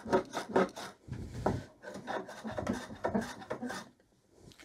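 A wooden mallet's edges being chamfered by hand, a steady run of close, scratchy rasping strokes with a brief pause near the end.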